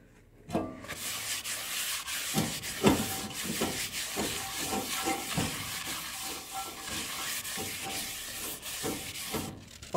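Paper rubbed in steady scraping strokes over the bottom of a cast iron pan, a close, dry hiss with rhythmic rough swipes throughout.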